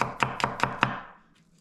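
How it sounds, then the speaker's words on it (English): Knife slicing through garlic on a cutting board: four crisp, evenly spaced chops in quick succession, close and clear, then fading to quiet. "with garlic, I just slice using my knife, slice it across"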